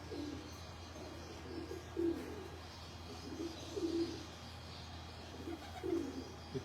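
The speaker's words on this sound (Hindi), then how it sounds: "ये कबूतर का बच्चा है," Soft, low pigeon coos repeat every couple of seconds at a gentle rhythm over a quiet background hum, from pigeons on a rooftop in Lahore.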